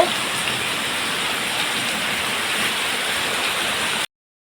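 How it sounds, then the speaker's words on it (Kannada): Steady, heavy rain pours down in a dense, even hiss with no voices, then stops abruptly. "ಇನ್ನೂ ಕೂಡ ಮಳೆ ನಿಲ್ತಾ ಇಲ್ಲ"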